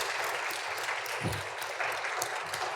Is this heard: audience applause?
yes